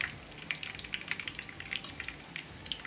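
Fish crackling and spitting in hot oil for Jamaican brown stew fish, a steady close sizzle with sharp popping bursts scattered throughout, no talk.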